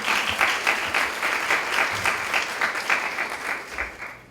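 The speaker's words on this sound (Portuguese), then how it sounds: "Palmas." A short burst of close, lively applause from an audience at a public health conference lecture, with clear individual claps pulsing and fading slightly near the end.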